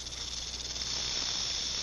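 A very large snake hissing, a steady, airy hiss that runs unbroken and fairly faint throughout, with no other sound over it.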